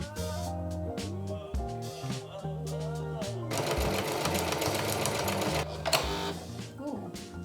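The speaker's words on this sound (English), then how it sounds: "Now I'm going to use these lines as a guide. I'm gonna sew across just to get that nice little quilting thing." Sewing machine stitching quilting lines across a fabric book pouch, a run of mechanical stitching with a busier, louder burst in the middle, and a person talking over parts of it.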